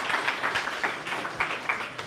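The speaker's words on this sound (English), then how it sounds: "Big round of applause for Applied Health AI." Audience applause at a hackathon demo livestream, heard as soft, fairly distant scattered claps with a rapid irregular rhythm over about two seconds.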